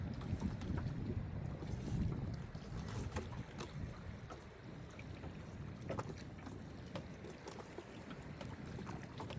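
A river in the Sundarbans near Marichjhapi forest, with gusting wind buffeting the microphone and water slapping against a small fishing boat, a steady rough rush with no talk.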